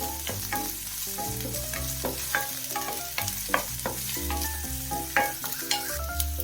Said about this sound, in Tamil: இங்க பாருங்க, வெங்காயம் எவ்வளவு வதங்கி இருக்குன்ட்டு